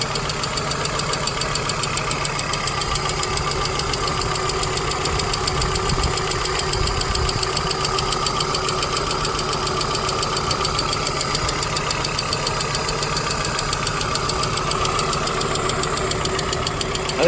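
A 1997 Volvo 850 engine with a hydraulic lifter tapping idles steadily, with a fast, even ticking running throughout over a constant mechanical hum, heard fairly close with no talking.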